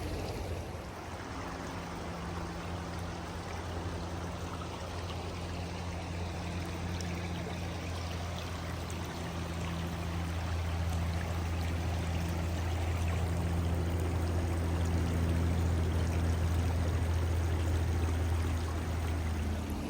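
Creek water flowing over rocks, a constant close rushing and trickling that swells slightly louder toward the end, with no voices.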